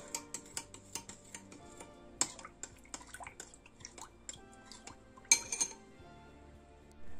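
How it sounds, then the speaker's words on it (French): Gluten-free banana bread batter with warm milk and yeast being stirred in a bowl, a utensil tapping and clinking against the sides in quick irregular knocks with a few sharper clinks, close and alone. "Je mélange."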